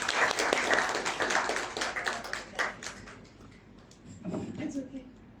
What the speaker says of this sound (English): May we welcome her with a round of applause.